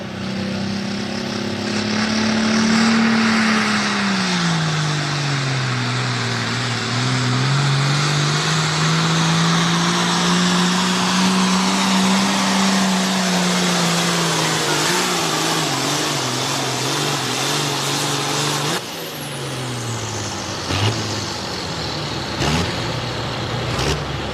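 Turbocharged drag racing car with a 466 cubic inch single-turbo engine on pump fuel, heard loud and sustained at a drag strip in Millers Tavern, Virginia, its engine note rising and falling steadily for most of the run before tapering off near the end.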